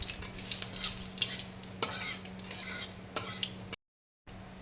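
Steady sizzling of magur catfish frying in mustard oil, with a few sharp clinks of a utensil stirring in the pan, close and moderately loud.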